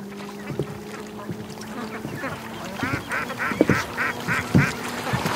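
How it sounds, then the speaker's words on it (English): Ducks raised for charity quack repeatedly at a lake during an early-morning swim, the calls growing busier and louder in the second half as several birds sound off close by. "Oh, you can hear the ducks all over the place."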